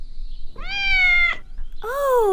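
A cat gives two distinct meows close by, the first long and drawn out, the second rising and shorter after a brief pause, with no speech.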